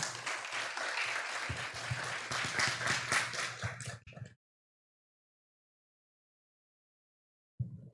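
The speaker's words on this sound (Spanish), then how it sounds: "la recibimos con un fuerte aplauso" Audience applause at the grand final of a business plan pitch competition, a dense, steady clapping from a crowd for about four seconds that cuts off abruptly into silence, with a brief faint sound just at the end.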